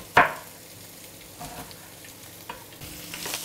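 Diced onion stirred in a pan over low to medium heat, a soft continuous sizzle broken by a sharp utensil knock at the start and a few scraping strokes.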